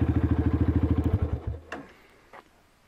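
A Honda CRF 230 motorcycle with slight valve tapping idles close by in a fast, even, thumping rhythm, then cuts off and falls quiet apart from a few faint knocks.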